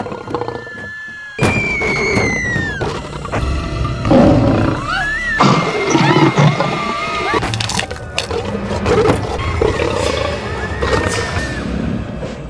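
Lions roar in the 2007 film Prey, a run of loud, rough roars and snarls over about twelve seconds with crashing, splintering thuds in between and no speech.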